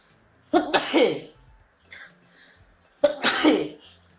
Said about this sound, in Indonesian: sedikit bersin